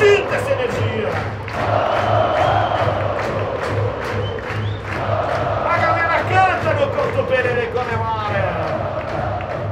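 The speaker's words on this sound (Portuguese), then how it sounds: "A galera canta!" Football stadium crowd of Paraná fans singing together, a loud massed chant with steady rhythmic drumming beneath and shouts rising over the song, continuous throughout.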